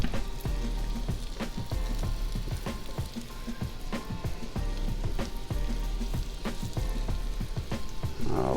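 Chicken pieces fry steadily in a hot pan, giving a dense, continuous sizzle with scattered pops and crackles throughout, close and loud with no voices.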